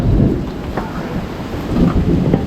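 Rain falling with low rumbling thunder in the hills of Bulacan, a steady wash under soft ambient noise, close and moderately loud.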